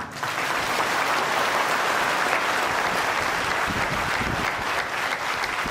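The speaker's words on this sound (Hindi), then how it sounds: "तालियां बजाकर बताएं आवाज जा रही है" Sustained applause from a crowd at a religious discourse, dense and steady clapping throughout at an even, loud level.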